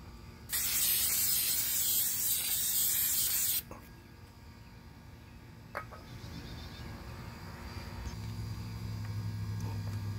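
Clear coat is sprayed onto a Chevy bowtie emblem in one loud, continuous hiss lasting about three seconds, followed by quiet room noise.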